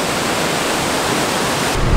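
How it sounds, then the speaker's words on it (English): The Cascata del Toce waterfall in Val Formazza roars steadily and loudly from close range, a dense unbroken rush of water. "You can get very close to the waterfall and look how amazing this is."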